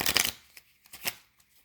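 Tarot cards being shuffled, a brisk riffling burst at the start followed by a few softer flicks and taps, close and clear with no talking.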